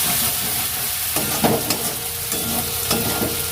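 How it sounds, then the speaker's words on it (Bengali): Onions frying in a pan for a home-style chicken curry, loud close sizzling with scraping stirs and occasional sharp spatula knocks against the pan. "পেঁয়াজটা ভাজা হয়ে গেছে"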